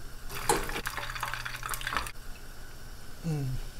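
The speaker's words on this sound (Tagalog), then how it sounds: "Idagdag na rin natin itong ating pritong tilapia." Pieces of fried tilapia, two medium fish halved, being set into a pan of mixed vegetables, giving soft clattering and stirring sounds with a few utensil knocks against the pan, then quieting.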